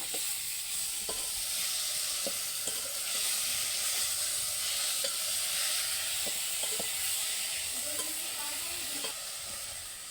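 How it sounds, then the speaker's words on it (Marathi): Spinach and garlic cloves stir-fried in a pan, with a steady loud sizzle and hiss throughout and scattered light scrapes and clinks of a spoon stirring. "आता पालक लसणाचे गाठे सगळे हे घेतो आता फिरून"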